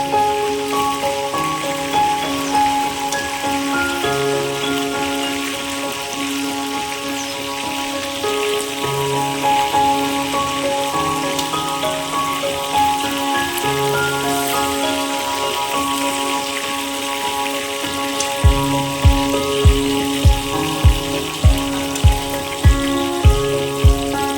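Fried chicken pieces go into a sautéed spice paste for a yogurt chicken and potato curry, giving a steady, rain-like sizzle under background music, with soft rhythmic knocks near the end.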